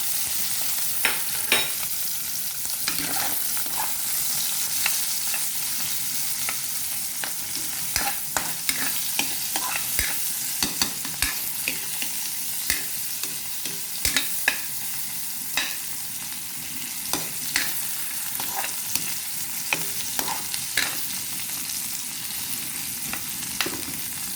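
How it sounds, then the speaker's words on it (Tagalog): Garlic and onion sauté together in a pan, with a steady sizzle and repeated clinks and scrapes of stirring throughout, close and loud with no talking. "ihuhulog na natin ang garlic at saka onion"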